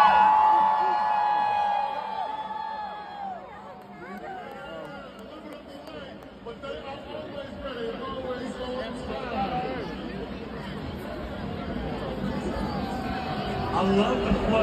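A large, packed crowd lines the street at the Kansas City Chiefs Super Bowl parade, with constant chatter, babble and occasional whoops blending into a dense, steady roar that rises slightly toward the end.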